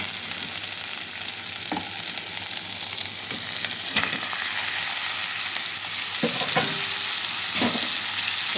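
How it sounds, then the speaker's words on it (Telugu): Minced meat keema fries in a pan with a steady close sizzle and hiss, broken by occasional light clicks and scrapes of stirring. "కైమా వేసేసుకుందాం."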